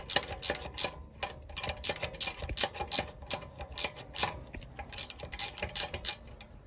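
A hand ratchet tightens the nut on a 2020 Toyota Tacoma front strut, producing quick bursts of sharp metallic clicks in an uneven rhythm with short pauses, close up and alone.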